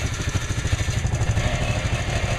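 Polaris utility vehicle engines idling and warming up outdoors on rural acreage during tree planting, a close, loud, steady rumbling chug with a fast pulsing rhythm and no talking.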